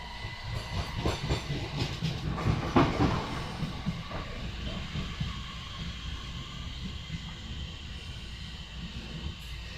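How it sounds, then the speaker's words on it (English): Heard from aboard a Class 465 train between London Waterloo East and Lewisham, another train rumbles past close by with a steady, broad roar, rattling and clacking that swells early on and then holds level. "The train is overtaking us."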